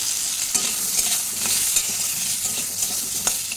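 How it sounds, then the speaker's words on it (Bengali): Potato pieces fry in oil with salt and turmeric in a kadai, a loud continuous sizzle with scraping stirs and small crackling pops throughout. "এবার এখানে যে তেলটুকু রয়েছে ওর মধ্যেই আমি আলুটাকে ভেজে নিচ্ছি"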